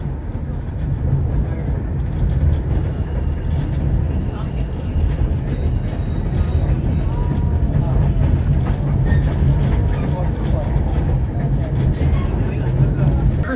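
Steady rumble and rattle of a White Pass & Yukon Railway scenic passenger train riding near Skagway, Alaska, a continuous loud interior roar with faint clicking, heard from aboard the car.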